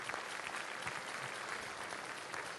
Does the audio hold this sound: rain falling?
no